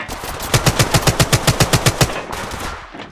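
Rapid automatic gunfire in the battle royale shooter Apex Legends, a steady burst of about a dozen evenly spaced, loud close shots, followed by a brief rumble of game noise with no talking.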